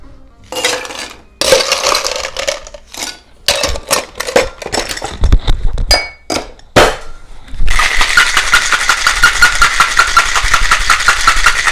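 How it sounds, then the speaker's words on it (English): Ice clatters into a cocktail shaker in a few sharp knocks, then a loud, steady, rapid rattle of ice shaken hard inside it fills the last few seconds, with no talking. "Get some ice in there. We're going to give us a good shake."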